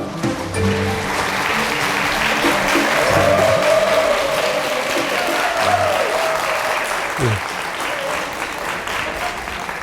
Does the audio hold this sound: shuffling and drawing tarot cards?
no